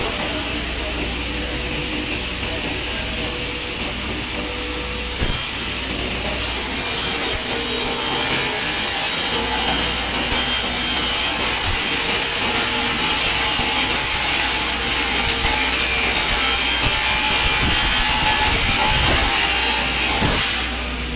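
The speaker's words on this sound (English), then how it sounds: "then with a jigsaw we will make the minute changes" A jigsaw cuts a sheet of panel material inside a Hyundai Starex van being converted into a mobile workshop. It gives a steady, loud buzzing rasp that barely changes pitch and runs unbroken for about twenty seconds.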